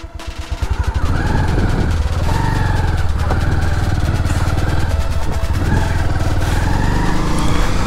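A Bajaj Pulsar 150 motorcycle rides along a road in Sylhet, its engine a loud, steady, close drone with slight rises in pitch, picked up with constant wind buffeting.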